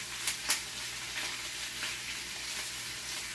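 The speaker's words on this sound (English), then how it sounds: "Tossing it. Stirring it lightly." Vegetables are tossed and lightly stirred in a hot pan, a steady sizzle with a few quick scraping sweeps and soft rustles near the start.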